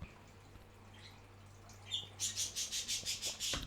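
Several pet birds chirp in a bright, rhythmic run of calls over a low steady hum, starting after a quiet stretch and continuing for about two seconds; kept a little way from the microphone, moderately loud, no talk.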